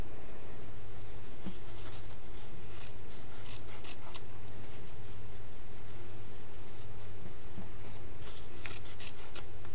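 Fabric scissors snip through multicoloured cloth appliqué pieces in a series of short crisp cuts, close and clear, with steady background hum and no talk.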